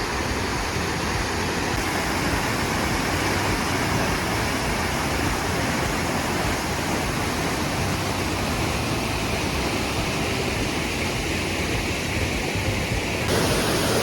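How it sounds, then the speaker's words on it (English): Dry Falls in the Blue Ridge Mountains roars as a loud, steady wash of falling water, close and unbroken, with no voices over it. "This waterfall looks so cool because you can walk behind it and it's so loud."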